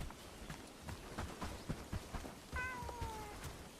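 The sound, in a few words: cat meowing in the video game Bellwright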